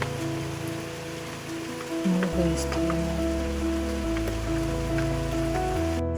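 Rain taps on a window in a soft, continuous patter beneath sustained background music, while a voice speaks briefly.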